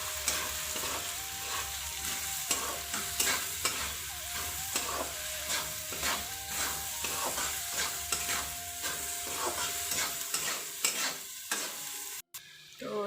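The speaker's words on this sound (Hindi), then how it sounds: "थोड़ा से गरम मसाला और स्वाद अनुसार नमक, थोड़ा चम्मच चला लो वो भी" Spoon stirring turmeric, garam masala and salt with vermicelli in a frying pan: steady scraping clinks and stirring over a continuous sizzle, close and even throughout, briefly cutting out near the end.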